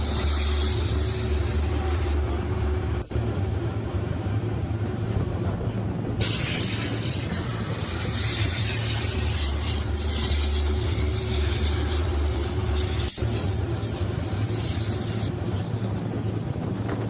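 An air wand blows dust out of a combine harvester's radiator, a loud, continuous broadband hiss with steady rushing noise and a couple of brief clicks, close and unbroken throughout.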